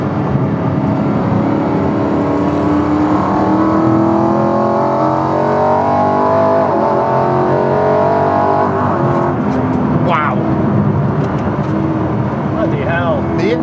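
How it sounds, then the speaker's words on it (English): A BMW V8 engine swapped into a Mini, with throttle bodies, roars with loud intake noise from inside the cabin while driving, its pitch rising and falling through the revs. Voices can be heard briefly over it. "The intake noise is coming straight through the front bulkhead there."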